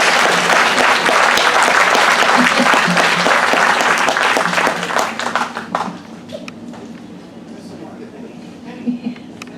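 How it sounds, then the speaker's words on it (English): An audience at a Kwanzaa celebration applauds the children, loud dense clapping that tapers off after several seconds, leaving quieter room sound with some talk. "Please give them a round of applause."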